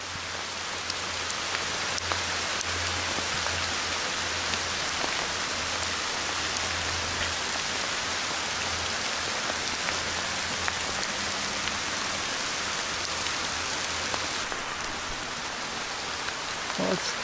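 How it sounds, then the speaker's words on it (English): Steady, heavy rain pours outdoors near a covered bridge, a constant hiss of drops on surfaces with scattered louder splats throughout and no talking. "Hopefully this rain will blow over."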